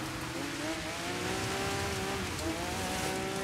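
A Porsche 911 RGT rally car slides around a dirt corner on a course in Colonnata, Italy, in the racing game Dirt 5, its engine droning steadily with shifting pitch under a constant wash of gravel noise.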